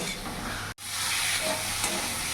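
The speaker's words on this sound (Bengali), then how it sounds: "এবার আলু দিয়ে আরও 5 মিনিট আমি কষিয়ে নেব।" Fried potatoes being sautéed in a spice paste for a silver carp fish curry give a steady close sizzling hiss with soft stirring scrapes, broken by one brief silent gap.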